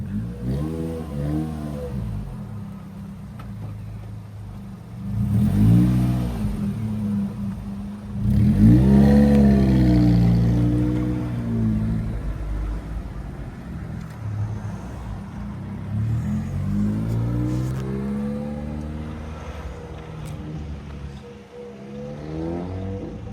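A hot hatch car pulls off a driveway and drives away, its engine revving in several rising pulls that fade as the car moves off into the distance.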